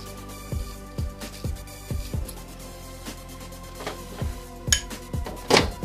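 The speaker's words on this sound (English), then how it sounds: "Stab a few holes in it with a fork" A fork jabs repeatedly into food on a plate, giving a string of sharp clinks and taps in an irregular rhythm, close and fairly loud, with no talking.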